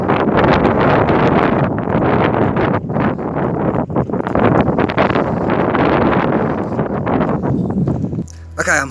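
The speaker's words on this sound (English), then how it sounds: "It is so windy, so I can't really talk much." Strong wind in the desert ghost town of Real de Catorce, Mexico, buffets the microphone with loud, continuous rumbling gusts for nearly the whole stretch and eases off briefly near the end.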